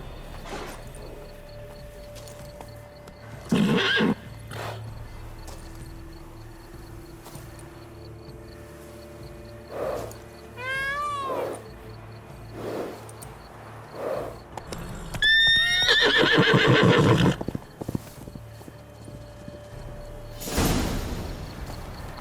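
A horse in The Witcher 3 whinnies twice in high, wavering calls, with soft hoof clip-clops and shuffling movement scattered around them. Each sound stands out clearly against a quiet outdoor background.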